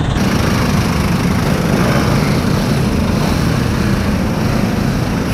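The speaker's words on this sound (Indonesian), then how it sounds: "Knalpot standar." A motorcycle with a stock exhaust drones steadily in slow city traffic, a loud, continuous engine hum with road noise and no talking.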